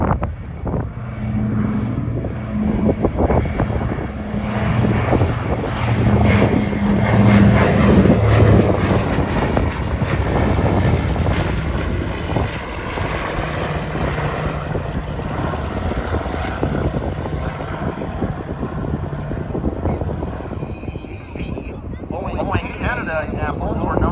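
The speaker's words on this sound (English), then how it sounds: "Comes the Catalina, guys. Catalina's coming in. Coming in hot." A PBY-5A Catalina flying boat, an amphibious aircraft, passes with a loud, sustained propeller-engine roar that stays strong for most of the stretch and then eases toward the end, while someone talks over it.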